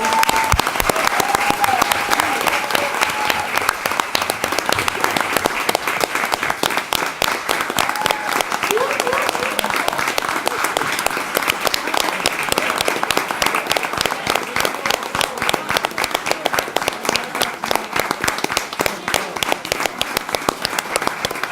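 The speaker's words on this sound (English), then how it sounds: "Another round of applause for our athletes here." Audience at a council meeting gives a sustained round of applause for athletes, dense steady clapping from a crowd filling the room for over twenty seconds without letting up.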